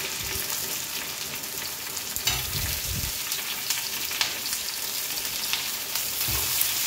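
Chopped onions frying and sizzling in a pan with ginger and green chillies for a jackfruit masala curry, a steady hiss with a few scraping stirs near the middle, no talk.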